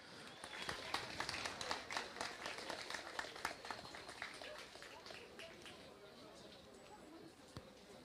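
Audience in a hall applauding steadily at a high school graduation ceremony, a dense patter of clapping that gradually thins toward the end, with a voice speaking faintly over it.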